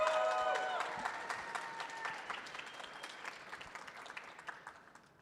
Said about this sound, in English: Can we give them one more round of applause?